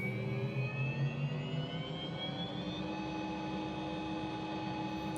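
The turbine engine of an MD 500E helicopter in a Microsoft Flight Simulator 2020 cockpit gives a steady, moderate whine with rising tones as the throttle advances, under a low, constant rumble and no talking.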